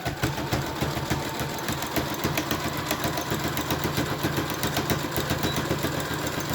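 A serger sewing machine running steadily while zigzag stitching the top of a reusable grocery bag, with a fast, even mechanical chatter and hum that stays loud and close throughout.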